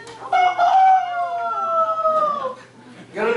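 A person imitates a rooster crowing with one long, drawn-out, wavering call that fades, followed by a brief burst of speech.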